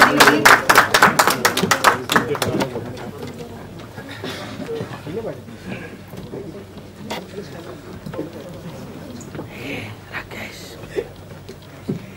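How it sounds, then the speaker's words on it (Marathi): A burst of clapping from an audience at a film trailer launch in the first couple of seconds, then fading into a murmur of background chatter and movement. "सर्व लाडक्या कलाकारांसाठी जोरात टाळ्या होऊन जाऊ देत"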